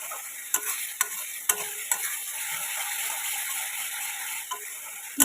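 Spice paste frying in oil in a pan, giving a continuous close sizzle broken by a few sharp spoon knocks and scrapes at roughly one-second intervals.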